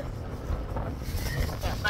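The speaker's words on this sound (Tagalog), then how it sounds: "Medyo sobrang mahangin na ngayon." A strong seaside wind in cold northwest Tasmania roars across the microphone as a low, continuous rumble, close and steady throughout.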